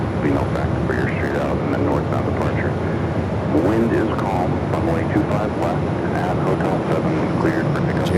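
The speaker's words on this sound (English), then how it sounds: "All right, we got that Delta A330-300. This flight heading back to Atlanta. Started its taxi." A Delta Airbus A330-300 taxiing at Phoenix Sky Harbor airport gives off a steady, loud jet engine rumble and whine that holds through the whole stretch, with someone talking over it.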